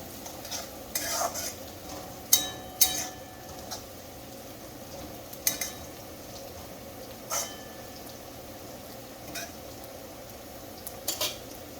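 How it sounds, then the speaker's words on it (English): Garlic and ginger being stirred in a hot pan while making masala dosa and sambar, with a soft steady frying sizzle under sharp intermittent scrapes and clinks of a utensil against the pan. "After adding garlic and ginger, stir for not more than 10 to 15 seconds."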